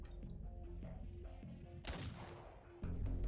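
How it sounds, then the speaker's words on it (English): A single loud gunshot bursts out mid-clip in the video game Arknights, cutting sharply through a low musical background before the sound swells again near the end. "What was that sound? What's going on this time? That sound... a gunshot?"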